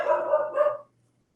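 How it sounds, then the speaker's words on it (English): Dogs bark in a muffled, steady burst from behind a closed door, a continuous run of yapping that lasts under a second and then drops to silence. "sorry about the dogs in the background."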